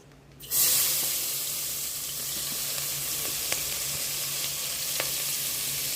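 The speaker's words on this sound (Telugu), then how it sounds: "ఇప్పుడు అదే ఆయిల్లో తరిగి పెట్టుకున్న ఉల్లిపాయ పచ్చిమిరకాయ ముక్కల్ని కూడా వేసేస్తున్నానండి" Chopped onions and green chillies hit hot oil: a loud burst of sizzling right away, then a steady close frying hiss with a few small pops.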